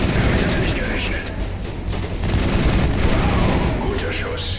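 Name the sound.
gunfire in the video game Mass Effect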